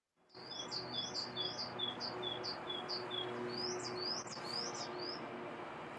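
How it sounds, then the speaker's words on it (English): Small birds sing outdoors in a repeated series of bright chirping phrases, fairly clear and steady above a soft background hum, with no talking. "Bird singing in it."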